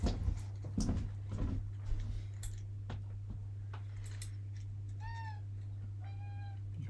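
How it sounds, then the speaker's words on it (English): A pet cat meows twice, faint and somewhat distant, over a steady low indoor hum that follows a few earlier clatters and knocks. "Here's the cat."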